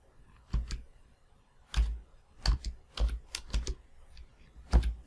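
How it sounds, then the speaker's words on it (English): Typing on a computer keyboard while searching in Windows 10, heard as clusters of sharp clicks and key taps in an uneven rhythm, close and distinct against a quiet background. "I'm going to type system first."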